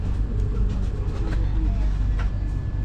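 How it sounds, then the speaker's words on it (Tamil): A train passes on the adjacent track just outside the window of a Vande Bharat train, making a continuous low rumble with faint clicks and rattles and no talk over it. "இது ஜன்னல், இது பக்கத்தில் இருக்கிற ட்ரெயின்."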